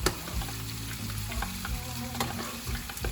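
Beef searing in hot oil in a pan, a steady close crackling sizzle with small pops and occasional scrapes as the pieces are flipped with tongs.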